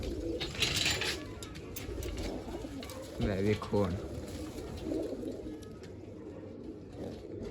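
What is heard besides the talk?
pigeons cooing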